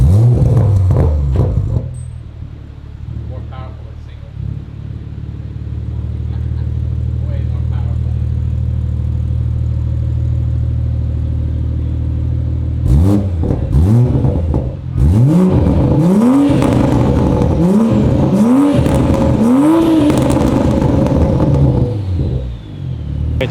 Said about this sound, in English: Supra is all done and ready to rock and roll. As you can hear, no more rattle.